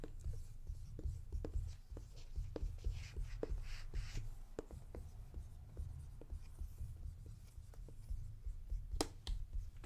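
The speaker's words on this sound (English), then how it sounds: "so go ahead and write your guess" A pen scratches out a guess on paper at close range in quiet surroundings, with short irregular strokes and taps continuing steadily throughout, no voices heard.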